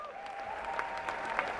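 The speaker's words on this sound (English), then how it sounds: "cheer for them, give them a big round of applause" An auditorium audience applauds robotics competition finalists at a national robot contest, a dense, steady wash of clapping with a few sharper peaks, moderately loud throughout and with no clear speech.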